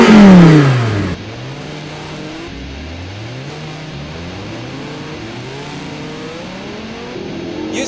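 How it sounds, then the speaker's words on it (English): A 2014 Audi R8 V10 Plus Coupe with a 7-speed S tronic gearbox opens with a loud engine burst, then pulls away, its engine tone climbing and stepping down through several quick upshifts. "coming up here to the start line, let me just turn off a few things"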